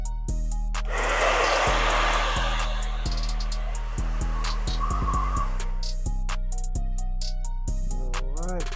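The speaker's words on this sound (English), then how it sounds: "now that I have it on there, let's go ahead and hit it with the dryer" A hair dryer blows hot air onto a rubber grip being fitted to an HK MP5, a steady whirring hum running throughout with faint clicks and handling sounds.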